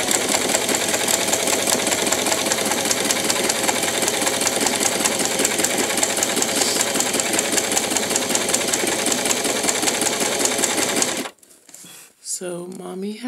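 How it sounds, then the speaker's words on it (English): A domestic sewing machine runs steadily for about eleven seconds, a fast, even mechanical whir-and-clatter stitching fabric, then stops abruptly, leaving a brief quiet stretch with a faint voice at the end. "lower the tension on the sewing machine because in the beginning it was pulling my fabric"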